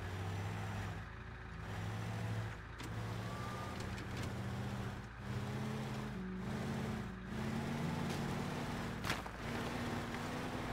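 A car driving in the Teardown video game, with a steady engine drone and rumbling road noise throughout and a few brief dropouts, heard alone without talk.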